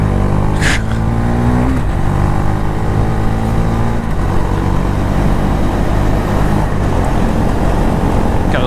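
Motorcycle engine running steadily through an off-road ride with slow turns, a loud close drone with pitch dips and rises as the bike is slowed and leaned over, no talk.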